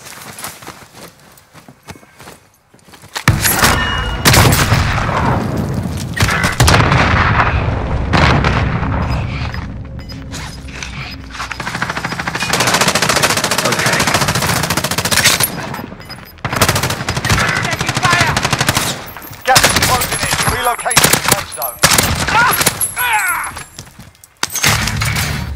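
Call of Duty Warzone gunfire rattles in dense, loud bursts of automatic fire mixed with booms and impacts. It goes on almost continuously for most of the stretch, broken by a few short lulls.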